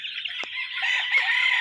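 Fighting roosters of a gamefowl bloodline kept for competition crow and cluck nearby, a steady bright crowing filling the yard with a brief sharper call partway through and no talk.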